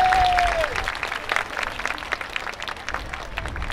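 A festival crowd at the main stage of the 2024 Kamisu Maicchage dance festival breaks into dense, steady applause, loud at first and then easing slightly. A brief high whistle-like tone sounds at the very start.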